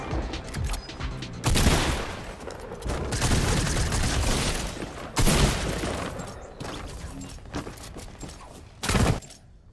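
Burger gun firing in a video game, loud repeated bursts of noisy blasts in irregular clusters, with sharp cracks and brief lulls between volleys.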